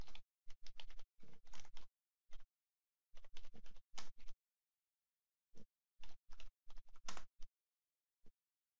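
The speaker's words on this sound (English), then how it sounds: "Type in a name for your template." Typing a template name on a computer keyboard, with quick close bursts of key clicks separated by short silent pauses, ending on a single isolated keystroke.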